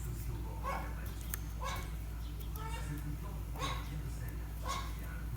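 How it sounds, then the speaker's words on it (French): A dog yapping outside with short, repeated high yips and whimpers at a moderate distance under steady background noise. "Vous entendez Keno qui jappe?"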